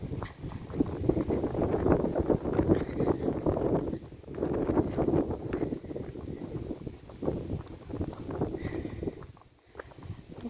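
Wind gusting across an open mountain summit on a hot, bright day. A loud, rough rumble buffets the microphone, swelling and easing in waves, and no one speaks.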